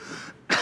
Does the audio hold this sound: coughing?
yes